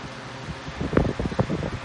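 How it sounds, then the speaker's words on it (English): A small drying fan blows steady air under a freshly washed fursuit head propped on a crate, a constant broadband whoosh with faint rustling bumps near the middle. "Put the head on a drying fan."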